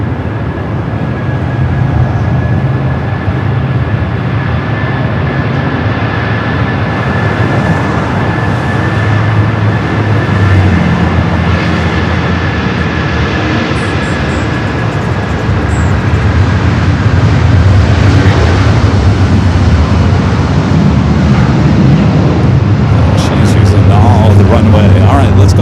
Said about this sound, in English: Dreamliner taking off from the 25 ride